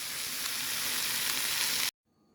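Jamaican sprat fish fry in a pan with a steady, dense sizzle that runs close and even for about two seconds, then cuts off abruptly into near silence.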